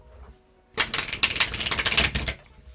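A tarot card deck is shuffled close by, a dense burst of rapid crisp riffling and flapping that lasts about a second and a half after a quiet start.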